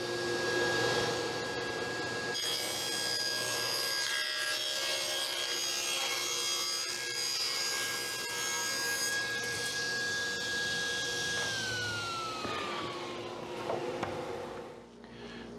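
A hand saw cuts through wood in a steady, close rasping stroke that continues for about fifteen seconds, with a faint whine fading near the end.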